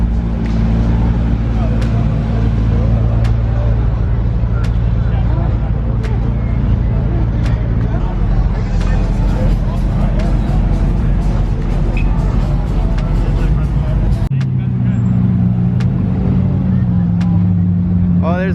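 A BMW E46 M3 with a stock exhaust idles and rumbles nearby in a loud, steady drone with a low tone that shifts near the end, while people talk over it.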